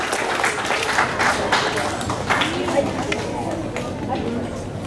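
A school audience at an inter-house Hindi recitation competition claps steadily throughout to welcome a student participant, a dense patter with some chatter mixed in.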